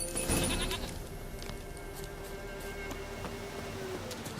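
A goat bleats loudly near the start inside The Witcher 3, its call trailing off into steady ambient game sound with faint music and scattered clicks.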